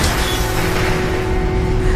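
A dense, sustained rumble from an explosion in the Korean zombie series All of Us Are Dead, filling the low end with a steady roar and a faint tone running through it, no voices.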